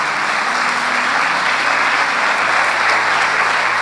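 A large church congregation applauds loudly and continuously, dense clapping that holds steady throughout.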